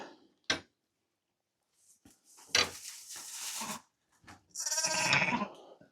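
Sheep on a farm at lambing time, an ewe and her lamb, give several short nearby bleats between quiet gaps, along with a few knocks, and no one speaks.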